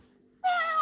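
A cat meow played from a children's Thomas and Friends sound book, a single sustained electronic-sounding meow starting abruptly after near silence, loud and close.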